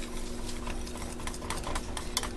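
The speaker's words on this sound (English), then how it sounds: "Whisk that in until it's smooth." Mayonnaise being whisked into a hot egg-yolk sauce for ham divan, a steady scraping and stirring against the pan that runs continuously at moderate loudness with no talk.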